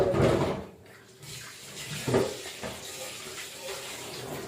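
Chillies are washed under running tap water in a kitchen, a close, uneven splashing stream that surges and dips as the hands move the chillies beneath it, with no talk.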